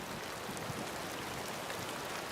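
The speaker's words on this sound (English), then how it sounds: "In the depths of the crater, it's raining again." Steady rain falls inside a jungle-covered volcano crater in New Guinea, an even, dense hiss of drops with no breaks and no voices.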